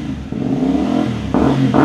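Motorcycle fitted with a long Leo exhaust and carbon tip, revving up close in short, loud bursts, a throaty burble stepping up in pitch twice within a couple of seconds.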